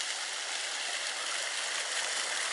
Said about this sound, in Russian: Нет, не водопад, фонтан.